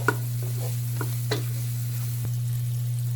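Hungarian sausage browning in a pan, a soft steady sizzle under a constant low hum, broken by a few light scraping stirs and taps of a utensil, with no voices.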